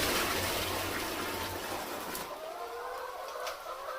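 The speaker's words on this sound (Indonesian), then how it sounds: "Kita tambahkan airnya." Water gushes steadily into a container, refilling drinking water for laying hens mixed with an ND IB vaccine, a continuous close rushing pour that softens slightly as it goes on.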